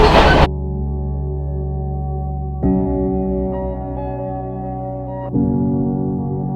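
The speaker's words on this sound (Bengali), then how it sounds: "খুব সুন্দর প্রকৃতির মাঝখান দিক দিয়ে ট্রেন বয়ে চলেছে।" A train runs on an old British-era railway line through hill country in Sri Lanka, heard as a sustained, fairly loud droning hum that shifts in pitch in a few steps, with no voices.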